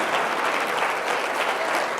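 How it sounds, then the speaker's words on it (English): An audience at a high school signing-day event applauds parents and guardians, producing steady, dense clapping throughout with no voices standing out. "Parents, why don't you at least stand so we can applaud you?"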